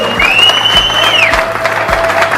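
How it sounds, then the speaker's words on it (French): Audience clapping at a poker camp closing ceremony, a steady patter of applause heard alone, with a sustained electronic tone rising and fading over it. "Merci d'applaudir"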